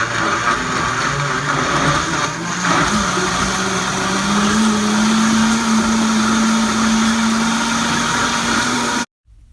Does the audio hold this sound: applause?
no